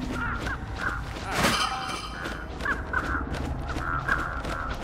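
Several crows caw in repeated harsh calls at a moderate distance, spaced irregularly over a busy background of ambient noise.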